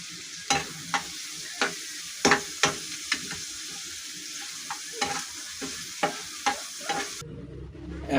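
Green chilies, chopped garlic and curry leaves fry in hot oil with a steady sizzle, broken by repeated scraping stirs of a spoon in the pan, close and clear, with no talk.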